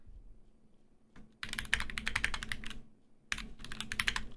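Rapid typing on a mechanical keyboard produces dense bursts of crisp, clacky keystrokes in two runs separated by a short pause, close and clear with no talking.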